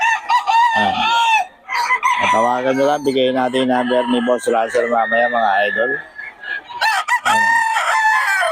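Several gamecocks crow loudly nearby, long drawn-out calls overlapping one another while someone talks over them.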